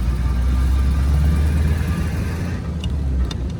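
A 1935 Packard straight-eight engine, Standard 8 convertible sedan, runs steadily at low RPM with a continuous deep rumble. Near the end come a few brief, faint clicks.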